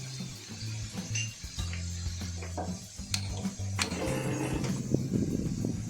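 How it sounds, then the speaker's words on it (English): Ginger garlic paste is stirred into hot oil with mustard and cumin seeds in a pan, giving a soft sizzle under repeated scraping and clinking of a spoon against the metal. "Add fresh ginger garlic paste and stir it well."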